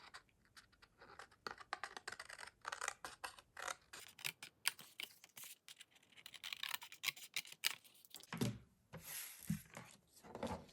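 Scissors cut through paper flaps of a 3D gift box made with a shopping basket die, a close series of quick snipping and scratching strokes in irregular bursts.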